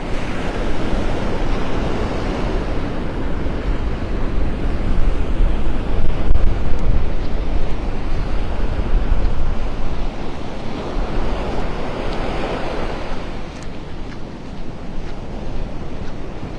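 Ocean waves break steadily along the Vanderbilt Beach shoreline in North Naples, a loud continuous wash of surf with rolling swells and some wind noise, with no voices.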